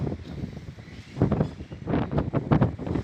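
Strong gusty wind blows across an open area under a dark, stormy sky before rain, with a steady roar that swells into louder buffeting gusts toward the end.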